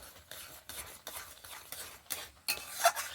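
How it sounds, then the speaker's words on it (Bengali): Raw mango pulp with sugar being stirred in a pan, a series of rhythmic scraping strokes about every half second with faint sizzle beneath and a small metallic clink near the end. "কন্টিনিউ নেড়ে চেড়ে আমের পাল্পটা কিন্তু খুব ভালো করে একটু পাক দিয়ে নিতে হবে"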